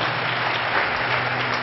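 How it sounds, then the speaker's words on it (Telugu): A church congregation claps loudly and steadily, a dense, sustained wash of applause with no talking over it. "గట్టిగా చప్పట్లు కొడదాం."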